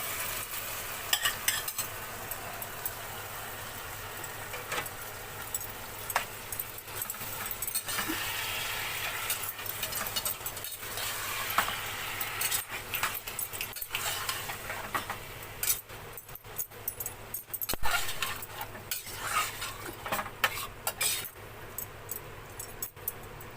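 Boiled jackfruit seeds being stirred into spiced masala in a pan, with a steady sizzle of frying and repeated scraping and clinks of the spoon against the pan, close and continuous without talk.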